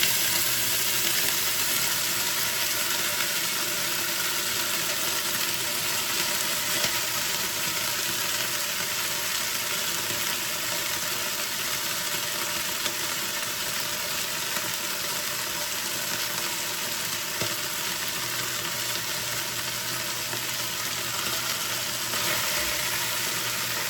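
Vegetables sizzling and frying in a pan as part of everyday home cooking, a steady loud hiss of crackling oil that stays constant throughout without talk.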